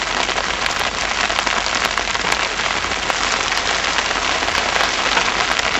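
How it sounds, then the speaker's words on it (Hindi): Steady rain falls on a mountain trekking route in the Rudranath area near Panar, a dense, even hiss of drops striking surfaces close by, continuous and loud throughout with no voices. "बारिश"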